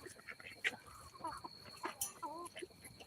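Chickens settling onto tree branches at dusk, soft clucks and low calls close by over a faint steady hum, with people talking quietly at the same time.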